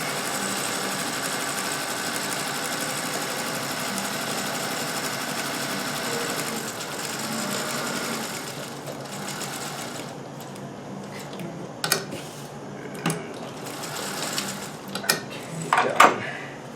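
A Singer 201K sewing machine stitches silk for a cravat and pocket kerchief in a fast, even run for several seconds, then stops and leaves a few close clicks and handling knocks.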